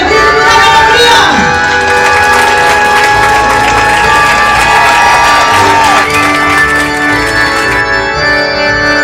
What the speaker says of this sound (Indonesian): kita beri tepuk tangan meriah.